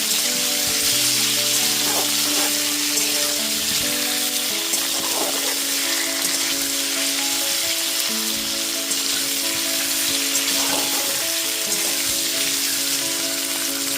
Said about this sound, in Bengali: গ্যাসের ফ্লেমটা মিডিয়ামে রেখে হলুদ গুঁড়োটা মিশিয়ে নেওয়ার পর আলুগুলোকে 5 মিনিট ধরে ভেজে নেব